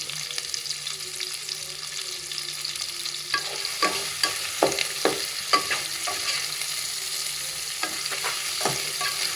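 Three large onions with a little salt sautéing in a pan for tomato biryani: a steady, even sizzle throughout, with sharp clicks and scrapes of stirring growing more frequent in the second half, close by and without talk.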